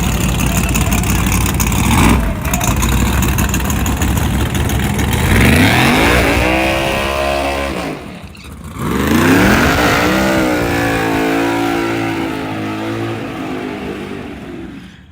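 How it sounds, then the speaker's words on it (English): Street race cars at XRP Raceway in a Texas versus Louisiana race, loud engines revving up and accelerating in sweeping rising pitches, two strong pulls close by and sustained throughout. "the race coming up for 20K supposed to be Pretty Tony Crew versus Nuke King Artune."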